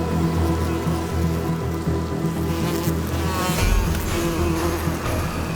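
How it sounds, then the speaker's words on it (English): A dense, continuous buzz of hornets and bees fills the scene, steady and close, droning around a beehive. "Just a few hornets can exterminate an entire colony of bees in a few hours."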